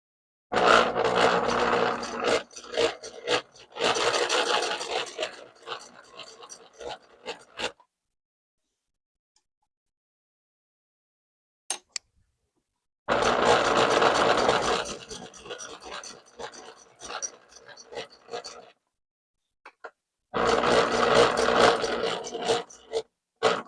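A Singer Model 920 Futura II sewing machine runs a straight stitch in three separate bursts of mechanical rattling and whirring, close and fairly loud, with silent gaps between the runs.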